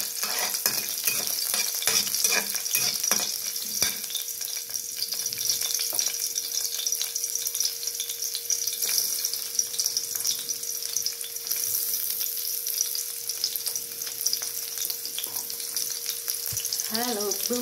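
Small squid adobo sizzling and being stirred in a pan, a steady loud hiss of frying with occasional scrapes and clinks of the utensil, with no one talking.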